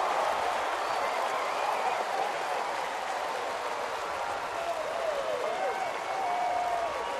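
Steady applause and cheering from a large baseball stadium crowd at a Colorado at Atlanta game, a dense continuous roar of clapping that swells evenly across the whole stretch.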